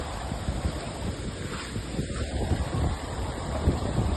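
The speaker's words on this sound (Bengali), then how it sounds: "খুব জোরে ঝড় হচ্ছে আর একটা কেমনই গুমনাম আওয়াজ শুনতে পাচ্ছি আমরা বিগত 15-20 মিনিট ধরে" Strong storm wind during Cyclone Remal in Mayapur, a steady broadband roar with gusty buffeting against the microphone, loud and continuous throughout, with no voices present.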